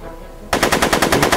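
Rapid bursts of video game gunfire ring out in a Back to the Future game (Episode 2, Get Tannen), starting abruptly after a brief quiet lead-in and continuing as a loud, evenly pulsing stream of shots with no talking.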